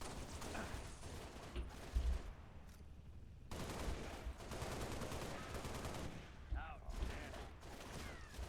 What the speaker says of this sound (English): Why is he firing at us?